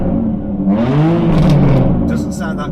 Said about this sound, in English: Right, here's my German straight six.